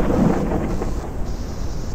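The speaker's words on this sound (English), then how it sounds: "These storms are nothing to joke about." A stormy downpour in the video game Forever Skies gives a dense, steady wash of rain with a low rumbling undertone of thunder, constant and fairly loud throughout with no talking.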